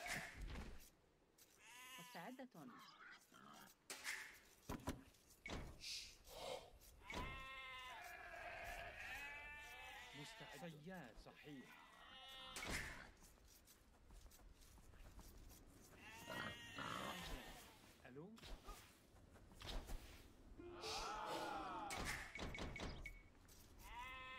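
Sheep bleat repeatedly in the video game Age of Empires II, with several distinct wavering calls scattered among clicks and game sound effects, fairly close and clear.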